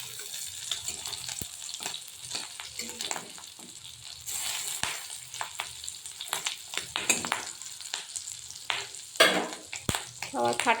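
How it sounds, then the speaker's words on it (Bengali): Fish roe fritters, flavoured with mustard and poppy seed, fry in hot oil with a continuous crackling sizzle and sharp popping spatters, close and uneven, with occasional spoon and lid clatter. "ডিমগুলো একটু লাল লাল করে বড়াগুলো ভেজে নেব"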